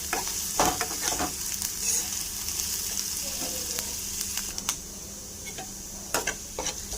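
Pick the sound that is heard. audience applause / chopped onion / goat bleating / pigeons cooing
chopped onion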